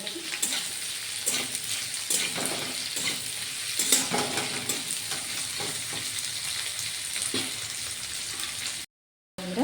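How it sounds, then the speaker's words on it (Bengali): Chopped onions fry with spices over lightly golden garlic in a pan, a steady close sizzle broken by scraping stirs, cutting out for a moment near the end. "পেঁয়াজগুলো মশলাতে যাওয়া অবধি ভাজা করবো।"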